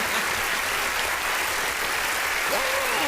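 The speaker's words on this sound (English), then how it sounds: "Clap it up, clap it up, clap it up" Steady, dense clapping fills a studio during a live show, even and continuous for a few seconds, with a voice briefly rising over it near the end.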